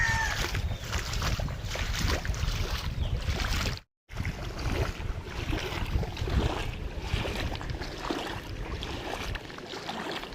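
Floodwater from a swollen river surges over the Nakhara bridge in a flooded village, a constant broad roar close by that drops out briefly, then resumes.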